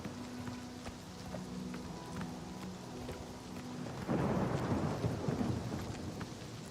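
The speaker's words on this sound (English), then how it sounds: "Thunder sounds awesome" Thunderstorm in the video game Oblivion Remastered, steady rain pattering throughout while a deep rolling thunder clap swells in about two-thirds through and rumbles on, moderately loud and close, with no talk over it.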